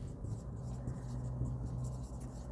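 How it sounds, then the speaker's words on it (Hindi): Pen writing on paper during a handwritten accounting lesson, a soft continuous scratching close by and steady, with no talk over it. "तो यहाँ पे हम लिखेंगे"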